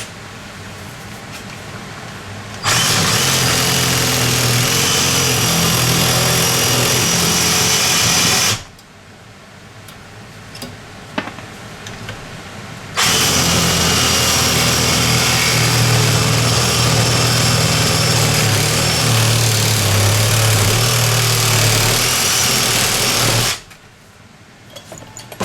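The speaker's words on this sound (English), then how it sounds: "I'm going to use a Sawzall to trim off those copper ends" A Sawzall reciprocating saw cuts the copper ends off an air conditioner radiator held in a vise, giving a loud, steady buzzing drone in two long bursts separated by a quieter gap, with brief clatter between.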